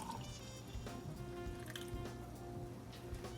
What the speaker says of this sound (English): So I'll pour this in here.